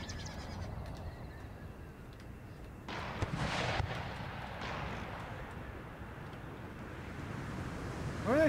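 Artillery fires in Empire: Total War with the Darthmod mod, a distant booming report around the middle that rumbles and fades beneath a soft ambient wash, with a faint horse whinny near the end.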